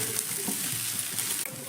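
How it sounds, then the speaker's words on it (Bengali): Chopped green chilies fry and get stirred in a pan, producing a brief, continuous close sizzle with soft stirring scrapes and one small knock near the end. "লঙ্কাটা দেওয়ার পর 2-1 মতো একটু নাড়াচাড়া করে নেব।"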